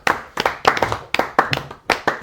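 A few people in a home give a small round of applause, clapping in about seven close, distinct bursts with short gaps between them, uneven and loose rather than sustained.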